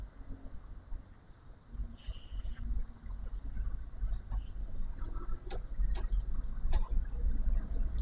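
The stock brushed motor of a WLtoys 104010 RC crawler runs with a low, steady whir that slowly grows louder, with faint ticks and clicks over it and no talking.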